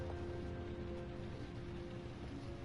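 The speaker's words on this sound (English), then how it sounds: "It's raining." Constant, dense rainfall in the video game Heavy Rain, a steady hiss with a faint tonal hum beneath it, even and unbroken throughout, with no voices.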